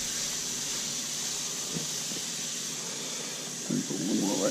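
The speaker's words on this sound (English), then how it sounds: "these are frying up pretty good" A steady hiss of food sizzling in hot oil fills the clip, with a few soft clatters and faint voice-like sounds near the end.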